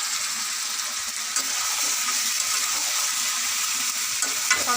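Hot oil sizzling and spattering steadily in a pan as food fries at home, a dense continuous hiss with occasional crackles and no voices.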